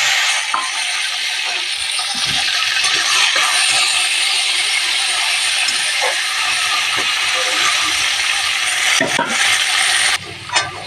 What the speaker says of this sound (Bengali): এই তেলের মধ্যে এবারে দিয়ে দেবো ডাটাগুলো সজনে ডাটাগুলো দিয়ে